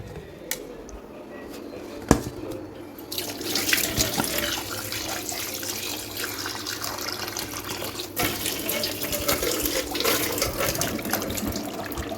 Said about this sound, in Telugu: దీంట్లో వాటర్ వేసేసి కడిగేస్తాను ఇప్పుడు